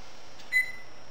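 A kitchen oven timer gives a single short electronic beep as it is set for baking lemon yogurt cookies, faint against a quiet room hum.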